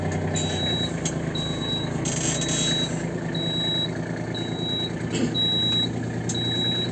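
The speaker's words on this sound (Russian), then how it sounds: "Трактор издает звуковой сигнал при движении задним ходом." An Iseki Geas AT33 33-horsepower mini tractor idles loudly while a high, evenly spaced warning beep repeats about once a second as it reverses.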